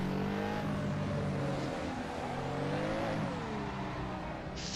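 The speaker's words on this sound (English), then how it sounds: "this sounds like a bit like an American type V8 type car" An American-style V8 car in Assetto Corsa on PS4 hums with a steady engine drone whose pitch rises and falls with throttle, continuous and moderately loud, with no speech.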